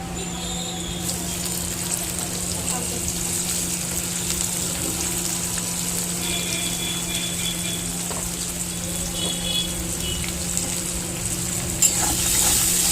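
Chopped onions fry in oil with cardamom, cloves, green chilli and cumin for a homestyle Bengali Rohu fish curry, giving a steady, even sizzle over a constant low hum, with no talking.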